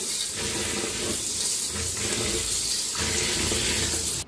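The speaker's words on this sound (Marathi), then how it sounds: "तर नळाखाली स्वच्छ धुवून घेऊया" Water runs steadily from a tap, splashing and hissing continuously as rice is rinsed beneath it, loud and close.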